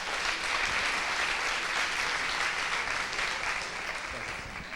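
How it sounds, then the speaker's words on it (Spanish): Applause greets speaker Sebastián Bustamante at the Eudii conference, a steady wash of clapping from the crowd that holds at an even level throughout without any break. "Demos la bienvenida con un fuerte aplauso al señor Sebastián Bustamante."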